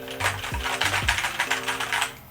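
Clacky keystrokes on a Keychron K4 mechanical keyboard with an aluminum body, typed in a quick, steady run of close, fairly loud clicks and thocks for about two seconds, with no voices.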